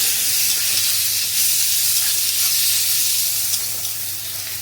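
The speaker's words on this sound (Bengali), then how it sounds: "আদা রসুনটা দিয়ে ভালো করে ভেজে নেবো" Ginger-garlic paste frying with onions for a potato and pointed gourd curry, giving a continuous close hiss and sizzle that fades slightly toward the end.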